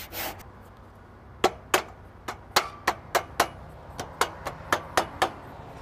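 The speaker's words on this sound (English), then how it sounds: "So what we need to do, we just cut out the Hebel. It's aerated concrete. It's extremely easy to cut." A hand saw cuts through a Hebel aerated concrete fence panel with about sixteen short, sharp rasping strokes in a fairly regular rhythm. Each stroke is crisp and close, with quiet gaps between them.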